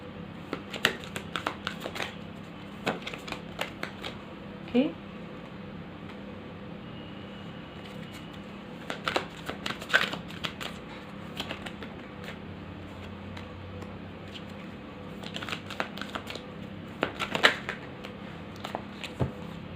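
Tarot cards are shuffled and handled at close range: light papery clicks and riffles in irregular bursts with quiet gaps, over a steady low room hum.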